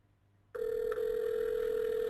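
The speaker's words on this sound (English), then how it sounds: "that now the phone is actually ringing" Ringback tone on an outgoing SIP trunk call from an Elastix system to a cell phone: silence, then a steady, sustained electronic ring tone begins abruptly and continues unbroken at moderate level.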